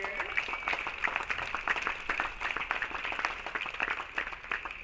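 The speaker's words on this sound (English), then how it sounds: "Let's give a round of applause for those people here." Spectators clapping at a women's college tennis championship, a thin, fairly distant patter of scattered hands sustained for several seconds over a faint room murmur.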